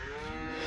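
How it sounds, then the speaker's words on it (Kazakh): A cow on a rain-soaked grassy village pasture lets out a single close, drawn-out moo that fills the whole short moment. "енді сиырлар барлығы аңырап жатыр"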